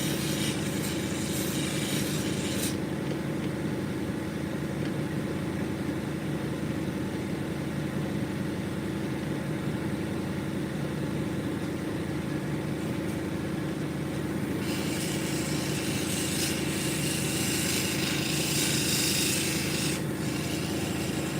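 Australian opal held lightly against a 280 grit lapidary grinding wheel, a steady close rasping grind with a constant motor hum running throughout, brightening in the last few seconds.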